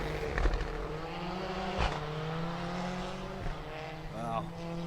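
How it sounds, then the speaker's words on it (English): Skoda Fabia AP4 rally car on special stage 9 of the Otago Rally at Windsor, its engine droning steadily with sharp pops and bangs, plus a brief skid-like burst near the end. "we now wait for Job Quintock and Grant Mara, the Skoda Fabia AP4 popping and banging its way through special stage 9."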